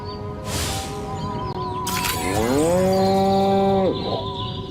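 A cow in the Destroy All Humans! remake video game gives one long, loud, drawn-out moo in the middle of the clip, over a steady game ambience with a short scrape just before it.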